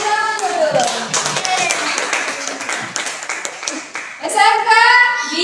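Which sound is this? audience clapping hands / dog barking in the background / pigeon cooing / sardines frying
audience clapping hands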